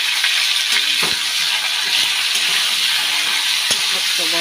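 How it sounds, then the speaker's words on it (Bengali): Food frying and being stirred in a large wok in a home kitchen, a steady sizzling hiss broken by several sharp clinks and scrapes of a utensil against the pan. "একটা বড় কড়াইয়ের মধ্যে আজকে রান্না করছি আমি।"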